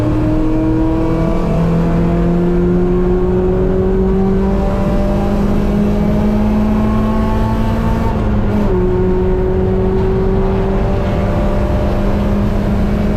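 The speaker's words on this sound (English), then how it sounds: "Back on the throttle." A race car at GingerMan Raceway comes back on the throttle after braking through turn 9, its engine note climbing steadily in a loud, close, continuous roar, with a brief shift partway through before it keeps pulling.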